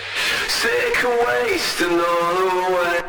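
A nu-metal/metalcore vocal sings through heavy distortion and compression, sounding gritty, saturated and squashed, with sliding pitch throughout.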